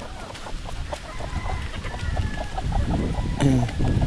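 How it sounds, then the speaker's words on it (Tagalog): Chickens cluck repeatedly in a busy farmyard, with scattered bird calls over steady outdoor noise and a louder squawk near the end. "pakain muna tayo ng ating mga manok"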